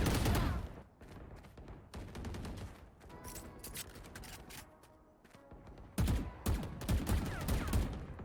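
Rapid gunfire from a first-person shooter deathmatch crackles in dense, loud bursts, with brief lulls between volleys and a heavy renewed barrage near the end.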